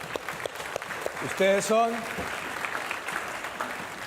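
Applause from an audience at a Spanish-language talk runs as a steady wash throughout, with a voice speaking over it near the middle.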